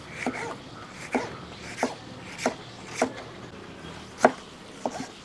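A knife chops through chicken on a board in a Kerala-style home kitchen, with seven sharp, evenly spaced thuds about a second apart, close and clear over a quiet room.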